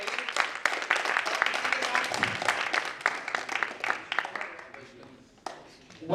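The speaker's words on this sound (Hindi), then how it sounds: "जोरदार तालियां इनके लिए" An audience applauds at a stage event as performers are honored, a dense crackle of many hands clapping that gradually thins out near the end, with a voice briefly audible underneath.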